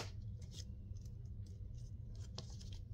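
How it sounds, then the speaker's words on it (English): Scissors cutting a carrot shape out of paper for an Easter tag: faint, close snips and soft paper rustling over a low steady hum, with no talking. "I think I'm going to cut off this carrot."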